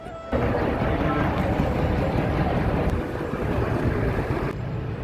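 A passenger launch crosses the Ganges from Nabadwip ghat to Mayapur ghat, giving a steady, loud broadband rumble of engine and water with wind buffeting the microphone throughout.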